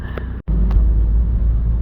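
A Toyota Land Cruiser BJ73 on the move gives a loud, steady low engine and road rumble from inside the cabin, with one brief dropout.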